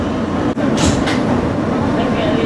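An NYC subway Q train, an R160B Siemens car, runs with a steady loud rumble of wheels and motors throughout, a brief dip near the start and faint high hiss bursts over the roar.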